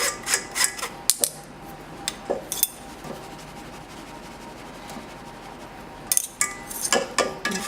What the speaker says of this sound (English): I'm just going to grab this spoon, get these last bits through.